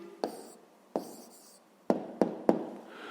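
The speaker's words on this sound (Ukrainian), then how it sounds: "Записуємо тоді відповідь." A pen writing down the answer to a fifth-grade math exercise, five sharp taps and short scratching strokes spread unevenly across a quiet room, close and faint.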